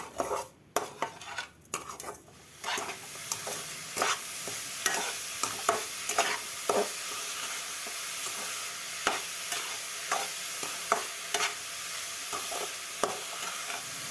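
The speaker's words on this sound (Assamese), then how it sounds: "প্ৰথমে নাৰিকল আৰু চেনি অলপ সময়ৰ বাবে এনেদৰে ভাজি ল'ম।" Grated coconut and a cup of sugar fry in a kadai with a steady sizzle while a utensil scrapes and clinks against the pan in irregular strokes, close and fairly loud, with no talking.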